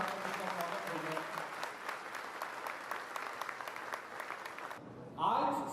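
Audience at a literature festival applauding to welcome actor Ashutosh Rana, sustained crowd clapping with some voices mixed in, ending abruptly before a brief burst of other sound.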